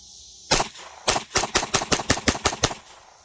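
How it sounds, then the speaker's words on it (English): A GSG 1911 .22LR pistol fires about ten shots in quick succession outdoors, one shot and then a rapid, evenly spaced string of sharp, loud cracks close by. "So all 10 rounds just fired right off"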